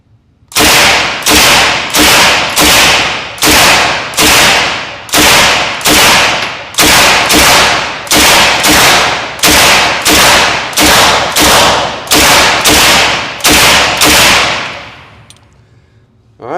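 A Sterling submachine gun fires at an outdoor range, loud and close: around twenty sharp shots in a fairly even rhythm, each cracking and ringing off briefly before fading at the end.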